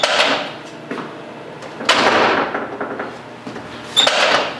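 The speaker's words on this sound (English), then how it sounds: "I'm just going to pop the pins." Several sharp metallic knocks and taps, spaced unevenly, as pins are driven out of the door hinges of a 1992 Ford F350 truck, with a louder clack near the end.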